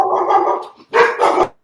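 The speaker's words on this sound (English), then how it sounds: "This dog just got excited, man." An excited dog barks loudly and close by, a drawn-out bark followed after a brief gap by two more rapid, forceful barks.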